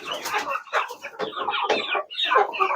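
Native country chickens cluck steadily in a close, busy chorus of a flock of about 500, with overlapping short calls filling the whole stretch and no talking.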